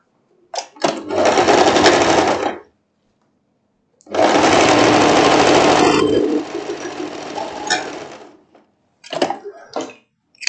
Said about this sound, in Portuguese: as duas laterais você vai costurar, não é?